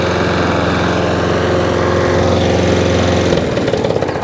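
Scrap lawn mower engine running on choke, a loud, steady close-up chugging drone with a rapid pulsing beat that roughens and shifts near the end.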